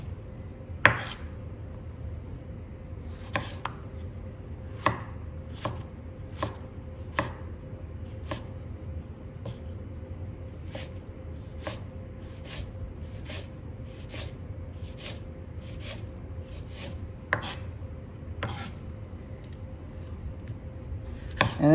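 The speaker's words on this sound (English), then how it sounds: "my tomato, I like to cut it twice like that, and then I'll come in and dice it" A knife chops and dices a tomato for pico de gallo, making a steady series of light, crisp taps spaced about half a second apart. The taps are quiet and close, heard alone over low background hiss.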